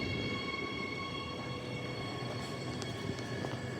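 A train rumbles steadily from inside a carriage in Perth, with a continuous low roar and faint whining tones, no voices.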